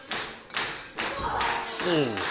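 A wrestler is slammed into the ring corner at a women's wrestling match, giving a few heavy thuds and impacts over crowd noise, with a commentator's voice running through.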